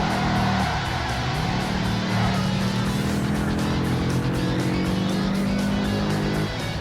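A 1973 Ford Mustang races in the driving game Ford Racing 3, its engine droning loud and close and rising in pitch as it accelerates through the gears, with other car noise mixed in.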